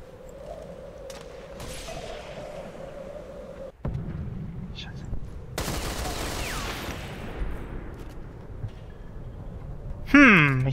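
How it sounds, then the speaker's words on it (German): Gunfire rattles in the tactical shooter game Ghost Recon Phantoms: a burst of rapid shots and booming blasts sits under a voice talking. "Auf jeden Fall wird auf ihn geschossen."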